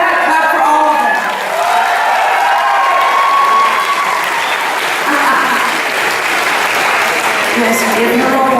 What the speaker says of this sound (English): Go ahead, clap for all of them.